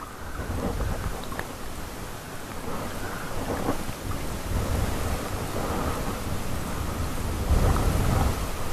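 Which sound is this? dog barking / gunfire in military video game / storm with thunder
storm with thunder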